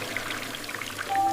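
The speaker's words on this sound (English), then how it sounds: "George turns on the shiny tap. The water comes out fast." A shiny bathroom tap in a cartoon gushes water fast, a steady close splashing pour that runs unbroken for a moment with no voices.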